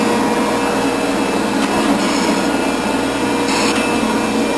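A milling machine cutter takes a pass on a milling vise being repaired, giving a steady, dense whirring and grinding drone up close, with a couple of brief scraping bursts.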